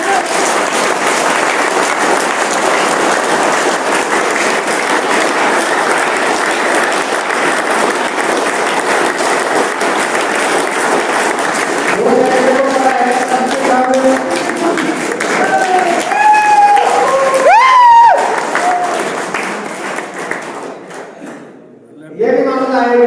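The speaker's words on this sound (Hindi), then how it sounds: "जोरदार तालियां एक बार।" Loud, sustained applause from an audience at a business seminar fills most of the stretch, thinning out toward the end as a voice begins speaking over it.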